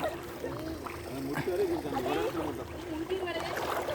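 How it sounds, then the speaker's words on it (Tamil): Water rushes steadily in a knee-deep stream over rocks in a natural setting, with people talking over the flowing sound throughout. "பாருங்கள் எவ்வளோ தண்ணி போகுதுன்னு பாருங்கள்."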